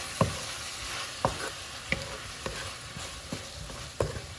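A spoon stirs food in a cooking pot, giving about half a dozen distinct scraping knocks at a steady, unhurried rhythm over a faint sizzle, close and fairly quiet with no talking.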